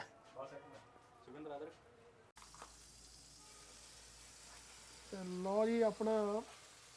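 Three eggs for an omelette sizzle on a hot griddle at a busy food stall, a steady hiss beneath people talking close by.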